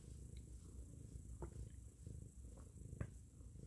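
A contented pet cat purring close by, a soft continuous low rumble that runs steadily throughout the short span with a few faint clicks on top and no talking.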